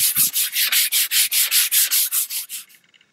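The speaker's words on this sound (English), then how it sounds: "To start with, I'm just going to sand down the wood." An old wooden chest of drawers is sanded by hand before spray painting, about fifteen rhythmic back-and-forth strokes scraping steadily and close, slowing and fading at the end.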